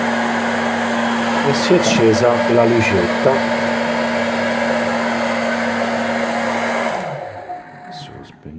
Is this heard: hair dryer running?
yes